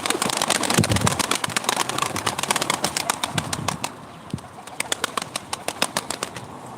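A tumbler pigeon arriving at a live pigeon auction in Ankara, with dense rapid wing flapping and clattering, then a quieter stretch of scattered flaps and taps close by, no talk.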